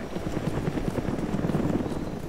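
Helicopter rotor in a video game battle at Krutoy Cap, a steady low chopping thrum filling the whole stretch at moderate level, with no speech over it.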